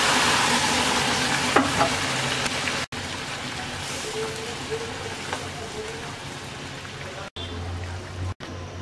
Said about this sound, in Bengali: বাকি ডালের মধ্যে আমরা বাগারের ডালটা ঢেলে দিচ্ছি।